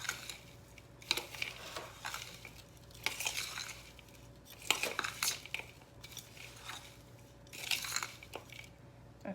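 Potting soil being mixed by hand for repotting a Calathea, using a small hand tool: scraping, crunchy stirring bursts in uneven clusters with pauses between, close but fairly quiet, no talking.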